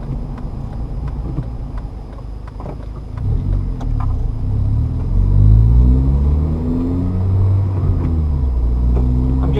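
A manual-transmission car's engine rising and falling as the driver lightly blips the gas during a basic upshift, close and loud, with a rumbling rev building toward the end and no talking.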